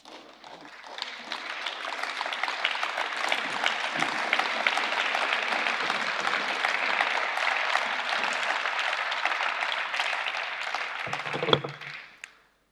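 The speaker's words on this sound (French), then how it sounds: "Merci d'applaudir, comme ça je peux boire." An audience in a parliamentary chamber gives a long, loud round of applause during Jean-Claude Juncker's 2018 State of the Union speech, building quickly, holding steady, then fading out abruptly.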